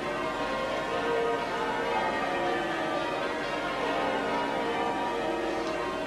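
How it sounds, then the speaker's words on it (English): Church bells peal across the rooftops of the City of London at the 1981 royal wedding of Charles and Diana, a continuous distant ringing layered in a dense, steady wash with crowd murmur beneath. "The bells ringing across the rooftops of the City of London."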